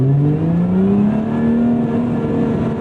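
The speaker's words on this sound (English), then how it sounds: "That decat instantly makes this car so much louder." Decatted Lotus Emira sports car engine revving hard, one loud, close, rising roar with a raspy exhaust note that climbs steadily in pitch over about three seconds, no voices.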